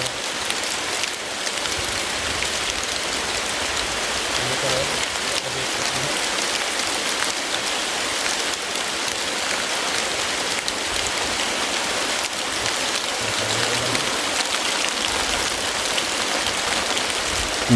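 Steady rain pours down outdoors after a hot spell, a dense, even hiss of drops hitting surfaces that continues without pause, with faint low rumbles underneath and no voices.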